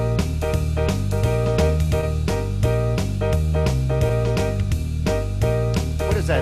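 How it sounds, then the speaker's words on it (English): An electronic home keyboard plays a rock and roll rhythm with its automatic drummer and auto bass engaged: a driving, steady beat under a walking bass line and chordal accompaniment, loud and continuous with no talking. "So here's the rock and roll style. The drummer and your auto bass is on."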